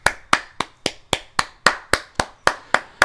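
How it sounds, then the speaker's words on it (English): Hand claps at a convention panel beat out a steady, even rhythm of about a dozen sharp, close claps, roughly four per second, with no talk over them. "applause for Jago Master for a good story and applause for good friends."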